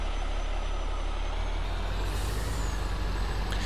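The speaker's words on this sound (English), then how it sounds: "The Jake brake is awesome on this truck." A truck's Jake brake in a farming video game on a Green Valley map, a loud, steady broadband rumble with hiss, continuous for the whole stretch and close up, no talk over it.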